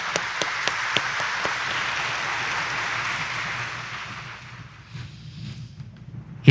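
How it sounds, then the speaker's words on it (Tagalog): A church congregation at a Sunday morning Mass in Quiapo Church applauds in a sustained, dense wash of clapping with a few sharp individual claps near the start, fading out to near silence with a low hum. "Yan ang huling palakpak"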